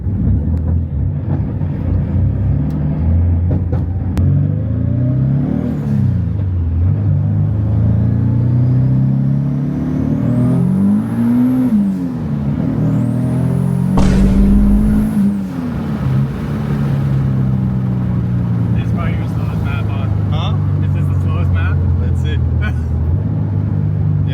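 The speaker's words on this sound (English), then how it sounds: "About to go for my first ride since the car has actually been tuned." Mid-mount turbocharged Nissan 370Z with a 6466 turbo, freshly tuned, rumbles and revs through repeated rising and falling accelerations heard from inside the cabin, with a turbo whistle and sharp blow-off hiss midway and people talking over it.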